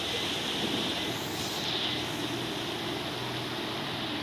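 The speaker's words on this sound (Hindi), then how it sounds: "यहाँ पर लहरें कितनी उफान मार रही है देख लो" Surging ocean waves at a beach in the video game Bus Simulator Indonesia, a steady broadband wash of surf that rolls on without pause and stays fairly faint.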